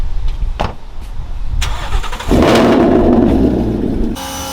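A car engine starts up on a street during a wash, shifting from a brief crank into a steady, loud idle rumble close by, with no talk.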